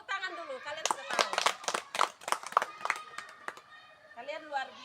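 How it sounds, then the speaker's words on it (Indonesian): Schoolchildren in a ball-throwing and catching lesson clap their hands in a short burst of uneven, crisp applause lasting a few seconds. A teacher speaks before and after it. "Tepuk tangan dulu, kalian sudah tahu."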